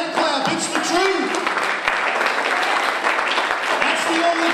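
A church congregation claps for God during a sermon, a busy wash of hand clapping with occasional cheers and voices rising over it throughout.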